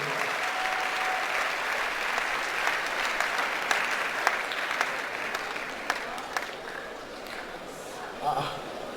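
A hall of fresh students at a university orientation applauds a doctor, sustained clapping from the crowd with voices mixed in, the clapping loudest early and thinning toward the end.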